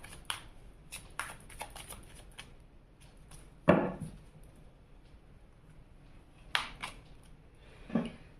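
Tarot cards are shuffled and drawn, a faint, close series of soft papery flicks and slaps, irregular and quiet, with a few sharper card snaps standing out.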